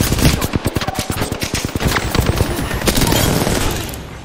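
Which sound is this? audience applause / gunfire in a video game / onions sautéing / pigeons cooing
gunfire in a video game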